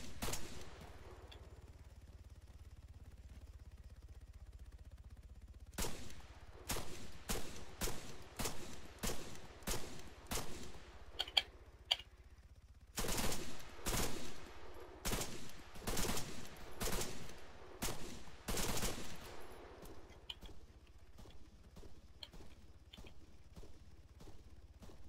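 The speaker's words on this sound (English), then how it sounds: "That was me shooting at them." Gunfire in the video game Arma 3, sharp bursts of automatic shots in clustered volleys, loud and close, separated by quieter pauses with faint ambient noise.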